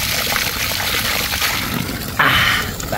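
Spring water runs and trickles steadily in a creek, close by, with a brighter splashing surge near the end.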